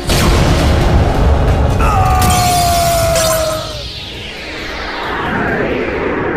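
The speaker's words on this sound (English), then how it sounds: "My monster attacks you directly!" A monster's direct attack in Yu-Gi-Oh Duel Links lands as a loud booming impact with a glassy shattering burst, followed by a sweeping effect tone that fades out.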